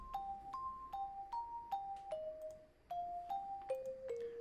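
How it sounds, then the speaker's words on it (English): A dry celeste playing a bell melody with no effects, each bright struck note ringing in turn at a steady rhythm, close and clear over a faint background. "Here's that bell melody without any effects."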